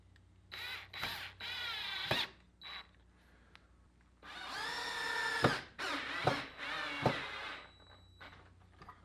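Several short bursts of a power drill whirring and straining as screws are driven into a truck bed dolly joint, close up, with brief pauses between each run.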